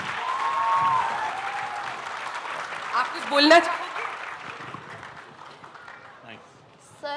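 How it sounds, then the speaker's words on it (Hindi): An audience at the Jashn-e-Rekhta festival breaks into applause that swells over the first few seconds, then fades as a voice speaks into a microphone, with a brief louder burst mid-clip. "तालियां हो जाए।"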